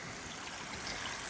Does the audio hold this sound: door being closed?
no